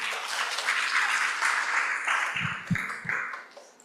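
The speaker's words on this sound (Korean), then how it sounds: "여러분 큰 박수 부탁드립니다" An audience at a small and medium ship safety forum applauds a speaker coming to the stage. The dense, steady clapping is close and continuous, with a few louder claps near the end before it thins out.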